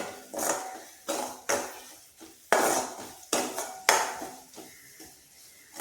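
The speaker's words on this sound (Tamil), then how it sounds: "இதை 1 நிமிஷம் கிண்டி விட்டுருவோம்." Spice masala of chili powder and other ground spices being stirred in oil in a pan for hotel-style paneer butter masala; a spoon scrapes and clinks against the metal pan in six or seven rhythmic strokes, close and clear, with no talk.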